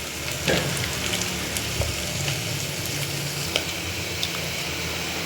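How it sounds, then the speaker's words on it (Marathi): Onion, chili and garlic frying with dry masala in a pan, a constant dense sizzle up close with a few light scrapes and ticks, no talking. "कांदा मिरची आणि लसूण भाजून घ्यायचं"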